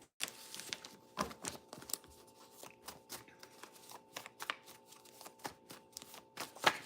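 A deck of tarot cards being shuffled nearby: quick crisp riffles and soft slaps in an uneven, busy rhythm, fairly quiet and continuous throughout, with no one talking over it.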